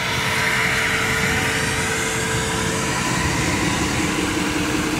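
A GMC Sierra 3500HD Denali dually with a Duramax 6.6 diesel and MBRP exhaust gives a loud, steady engine drone with a low rumble and a faint whine, continuous and close, no voices.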